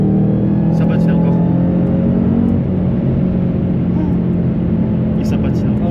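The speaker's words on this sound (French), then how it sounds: "On l'entend le compresseur maintenant que tu le dis." Supercharged Ford Mustang Shelby GT500 SVT accelerating hard with wheelspin, a loud, steady engine roar and blower drone filling the whole stretch, with voices faintly present inside the car.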